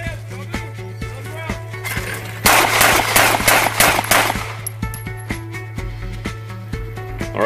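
Handgun shots at an outdoor qualification range: several shooters fire an overlapping volley of sharp reports for about two seconds, then single shots and clinks follow over a steady low hum.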